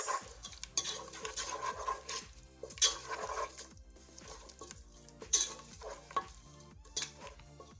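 A spoon stirs a spicy Kpomo cow-skin sauce with seasoning cube, uziza and scent leaves in a pot, giving repeated scraping and clinking strokes in an uneven rhythm over a soft simmer, close and fairly quiet.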